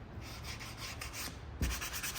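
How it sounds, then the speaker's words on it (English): Sandpaper rubbed by hand across a wooden piece before stenciling, a soft, quiet rasping of repeated strokes with one slightly firmer scrape near the end. "Before you stencil, always sand."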